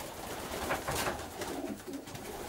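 Racing pigeons coo softly in a roomy stock loft bedded with straw, a few low throaty calls repeating over a quiet background, fairly close and alone without talk.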